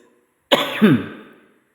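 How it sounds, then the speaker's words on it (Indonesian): A single short cough with a throaty clearing, loud and close, followed by a brief fading rasp in otherwise quiet surroundings. "Batuk dulu pemirsa."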